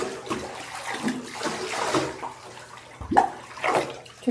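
Bathtub water is scooped with a cup and poured over a dog during a bath, giving uneven splashes and trickles close by, with a louder pour near the end.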